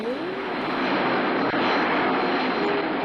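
A Korean Air Boeing 747 jumbo jet gives off a steady, loud broadband roar of aircraft engines that holds evenly throughout, with no voices over it.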